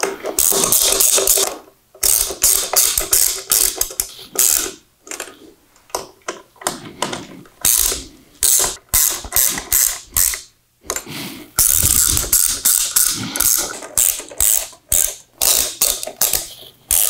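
Ratchet tightening the four retaining bolts on a 2014+ Harley-Davidson head unit mount, close and loud, in rapid clicking bursts separated by short pauses, with no talk.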